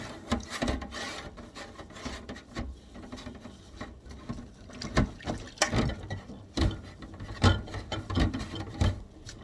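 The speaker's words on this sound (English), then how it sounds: "So I'm just going to keep washing them all until they're all clean." Glass canning jars being washed by hand, with repeated rubbing, scrubbing and squeaking strokes, occasional light clinks and knocks, close and moderately quiet, no talking.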